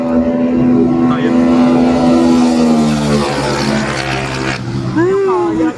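Racing motorcycle engine of a Rusi Flame 150x revving loudly close by, a sustained droning whine that falls in pitch and then rises sharply again near the end, with voices faintly audible underneath.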